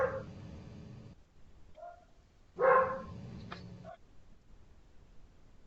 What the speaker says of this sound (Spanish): Arely, seguimos escuchando a tu perrito.